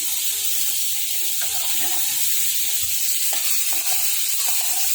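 Boiled potatoes and vegetable stalks fry in a pan with a steady, loud sizzle and hiss, broken by faint scraping and stirring knocks throughout.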